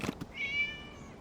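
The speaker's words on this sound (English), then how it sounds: "It was just a cat." A single cat meows in the Genshin Impact video game, a drawn-out rising then sustained meow lasting about a second, clear and moderately close, following a couple of brief soft game sounds.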